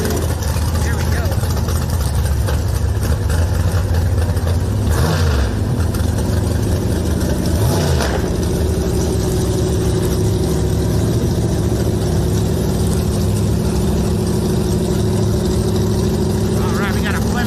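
A Plymouth and a rail dragster idle at the start line of a drag strip, their engines producing a continuous low throbbing rumble with occasional revs, while someone talks over them.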